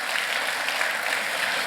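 A church congregation claps together in a brief, dense, even burst of applause with no pauses.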